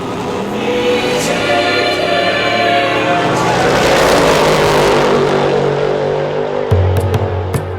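A powerful 9.3-litre twin-turbo V8 car revs hard and roars as it accelerates, loud and close, the pitch climbing steadily before dropping off with a few sharp pops at the end.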